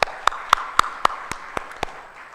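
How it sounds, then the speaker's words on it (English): At a hybrid inclusive symposium, about eight sharp, evenly spaced hand claps ring out to welcome the panel. The claps are close and distinct rather than a full audience roar, and they fade toward the end. "can we just give them a round of applause for welcome?"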